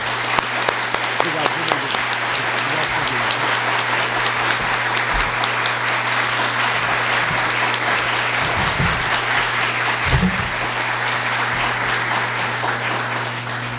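Audience applause fills a university hall honoring Cardinal Odilo Pedro Scherer, a dense, sustained, loud clapping that runs steadily for the whole stretch with a low steady hum beneath.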